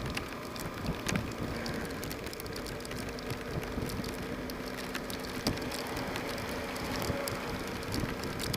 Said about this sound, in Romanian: credeți-mă că plouă tare